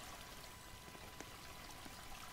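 An indoor waterfall in a house in the Roblox game Mega Mansion Tycoon flows as a faint, steady, hissing rush of water with no voices.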